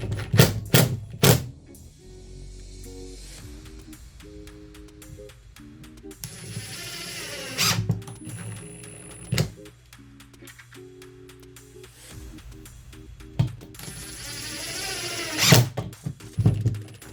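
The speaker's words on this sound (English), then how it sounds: "add at least 4 drywall screws to it to permanently anchor it in place" A drill driving drywall screws into a drywall patch, several separate whirring runs with pauses between them, each ending in a sharper bite as the screw seats, close and alone.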